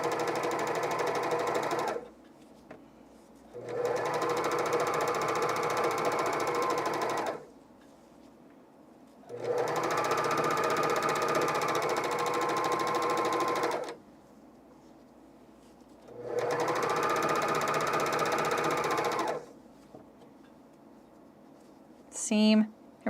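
A Baby Lock serger sews underwear seams in three long, steady bursts of buzzing stitching, separated by quiet pauses, close by, with a brief rattle at the very end.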